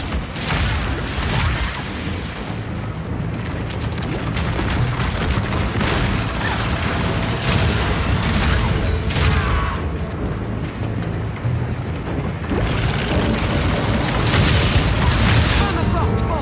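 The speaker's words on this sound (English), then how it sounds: "Armor-piercing bolts" Armor-piercing crossbow bolts firing in Path of Exile 2, a dense run of booming, bursting impacts and mechanical clatter that stays loud and busy throughout, layered over game music and effects.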